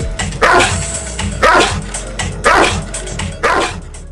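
A Cane Corso barks loudly and close by in four deep, evenly spaced barks, about one each second, with no talk.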